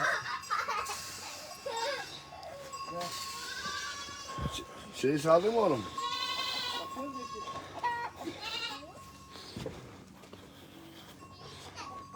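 Black goats on a highland pasture bleat repeatedly throughout, several calls near and loud, overlapping with people talking and calling out to the herd.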